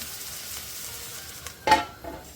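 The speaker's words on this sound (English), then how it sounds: "one last stir, and let's get the lid on" Sweating vegetables sizzle softly in a pan while a spoon gives one short stir with a brief scraping swell near the end, no talking.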